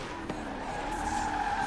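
Car tires squealing and skidding while drifting in Forza Horizon 4, a steady sustained screech over engine drone in a winter night racing event.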